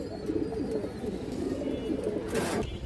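Silver pigeons coo in a steady, low, throaty bubbling that runs throughout, close and moderately loud, with a brief rustle near the end and no talking.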